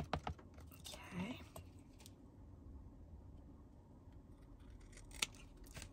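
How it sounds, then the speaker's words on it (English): Scissors trimming the excess from a red and white checkered tablecloth craft: quiet, close snips and crisp cuts, with faint background murmuring. "Trim off the excess."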